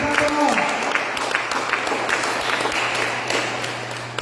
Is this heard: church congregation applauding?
yes